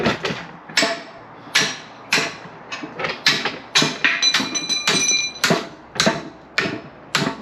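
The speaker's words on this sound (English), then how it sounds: "You may have to tap it with a hammer." Hammer tapping on the control arm of a CF Moto 800 Trail ATV during repair, a series of sharp metallic strikes at an irregular pace, close and loud, about a dozen blows with ringing overtones and quiet gaps between.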